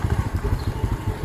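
A parked motorcycle idles at a mosque-side market square, a steady low pulsing rumble close by, moderately loud and alone with no speech.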